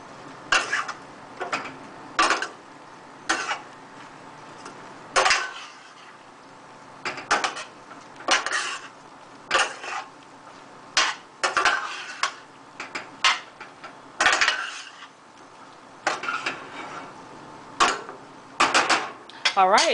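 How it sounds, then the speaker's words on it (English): Stewed okra is stirred in a pot with repeated clacking and scraping of a utensil against the pot in an uneven rhythm. A voice talks between the strokes. "You want to stir it around good so that the flavor distributes evenly."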